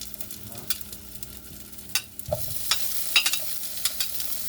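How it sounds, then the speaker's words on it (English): Sausage is stir-fried in a hot pan with softened vegetables for a quail egg scramble, a low sizzle under repeated scraping and stirring knocks from a utensil, close up and moderately quiet. "Actually, I decided to go ahead and throw the sausage in."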